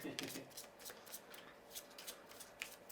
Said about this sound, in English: the RPG is shuffled back into the deck for the 3rd time